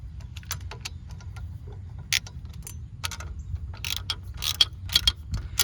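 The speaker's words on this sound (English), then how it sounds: "we'll tighten up our bolts" Bolts being tightened on a 2007 Cadillac SRX rear differential, with quick clicking ratchet strokes and metallic taps over a low background hum, close and fairly quiet, without talk.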